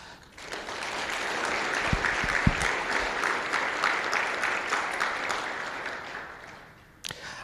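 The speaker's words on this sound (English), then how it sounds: "A round of applause to him, please" Conference audience at a computer science event bursts into applause, a full, even roar of many hands clapping that builds quickly, holds for several seconds, then tapers off.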